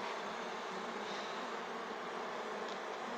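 A swarm of honeybees being hived hums in a continuous, faint, steady drone with no voices.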